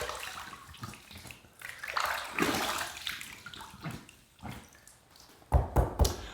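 A shaving razor is rinsed under running water, which splashes unevenly against it. Louder bursts come as the razor is moved under the stream and tapped, and no one speaks.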